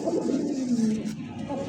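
A pair of caged pigeons offered for sale cooing close by, a soft, low, continuous warbling coo rising and falling without pause.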